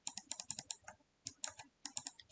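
Rapid typing on a computer keyboard, quick clusters of crisp key clicks with short pauses between bursts, close and quiet.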